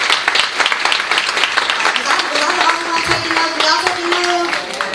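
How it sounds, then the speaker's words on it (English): Lively applause from a women's history month symposium audience, with sharp individual claps and voices cheering above it, continuing strongly for several seconds. "let's give another round of applause for Julie."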